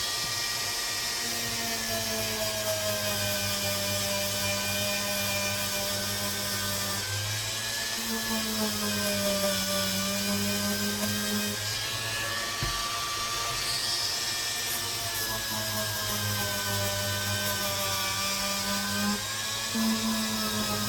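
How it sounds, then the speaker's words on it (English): A steady high-pitched whine of a small rotary tool with a stone bit runs continuously, its pitch dipping slightly as it grinds against EVA foam, close and fairly loud. "I'm going to end up breathing in while I'm sanding EVA foam."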